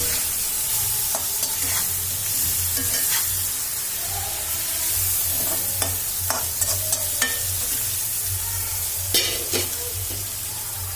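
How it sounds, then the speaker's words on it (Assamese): Pieces of fish frying in oil while being stirred, a continuous soft sizzle with scattered scraping and tapping of a utensil against the pan, close by and without speech. "ভাজি ল'ম যে মাছখিনি ইয়াতে"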